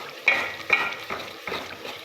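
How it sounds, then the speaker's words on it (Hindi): Onion frying in a kadai for beef white karahi, an even sizzle broken by four or five rhythmic scraping stirs of a spoon, close and moderately loud. "हमारा जो प्याज था वो इसके अंदर अच्छी तरह से फ्राई हो गया है।"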